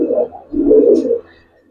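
Old-lineage Giribaz and silver pigeons give soft, low cooing calls, two rounded phrases close by with a brief pause between, over quiet surroundings.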